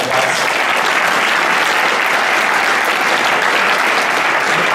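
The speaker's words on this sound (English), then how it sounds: "so another huge round of applause." Loud, dense audience applause at a hackathon closing ceremony, steady and sustained throughout with no speech over it.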